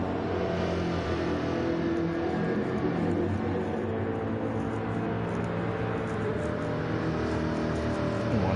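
A V8 American car engine in Gran Turismo 7 gives a steady, deep, throaty drone, a continuous low grunt that holds level throughout with no clear revving peaks.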